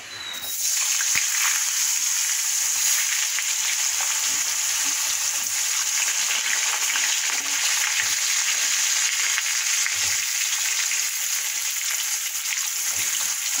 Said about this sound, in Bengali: জিরেগুলো ভাজা হয়ে গেছে, এবার আলুটা দিয়ে দিই।